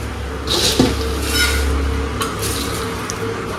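A spoon scrapes and stirs through chevdo in a metal pot as spices and powdered sugar are mixed in, a steady close clatter and rustle with a couple of sharper knocks.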